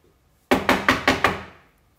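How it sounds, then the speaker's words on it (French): Five quick, sharp knocks on a door for a children's audiobook of the three little pigs, close and loud in an even rhythm, each ringing briefly before fading, with no talking. "le loup vint frapper à la porte de la maison en paille."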